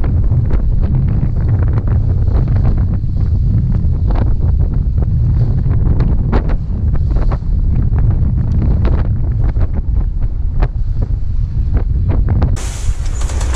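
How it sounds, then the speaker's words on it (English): Strong 30-knot wind at sea roars over a sailboat, with loud, gusty buffeting against the microphone throughout and no voices. "The wind is blowing 30 knots."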